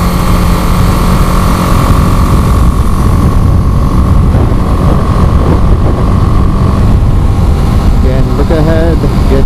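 A BMW G 310 GS motorcycle cruising in top gear on back roads, steady engine drone with heavy wind rush throughout, and a rider talking over it.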